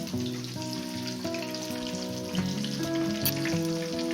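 Pork chops fry in a pan with a steady, even sizzle throughout, alongside soft sustained melodic tones in the background and no talking.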